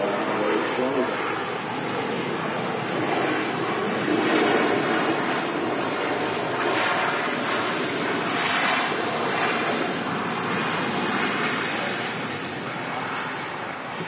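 A KLM Boeing 737-900 airliner at Manchester Airport rolls down the runway on its takeoff run, a steady broadband roar and rush lasting throughout, mixed with wind noise on the microphone.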